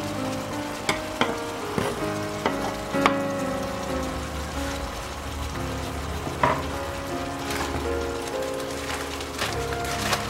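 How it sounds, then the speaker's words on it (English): Onions, colored peppers and mixed vegetables fry together in a pan, giving a moderate sizzle with scattered clicks of stirring under soft background music. "let's just add our veggies now and let them fry all together"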